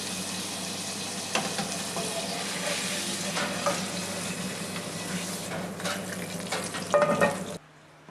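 Free range chicken breast searing in a hot pan for colour, a loud continuous close sizzle with scraping and stirring movements, swelling near the end before cutting off abruptly.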